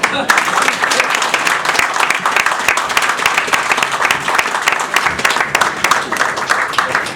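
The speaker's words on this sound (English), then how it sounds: "you gotta give him a applause" Sustained audience applause at a 2016 New York 13th district political debate, dense clapping filling the room steadily throughout with some voices mixed in.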